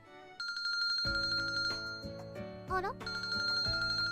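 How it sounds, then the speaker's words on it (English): A phone ringtone plays in a Japanese visual novel, a bright repeating electronic melody of ringing tones that continues for several seconds, with a brief spoken exclamation partway through. "My phone rang. What an annoying ringtone."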